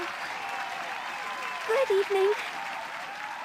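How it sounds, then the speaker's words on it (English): Applause from an audience, a steady wash of clapping heard under a voice speaking briefly. "Clapping as hard as I can."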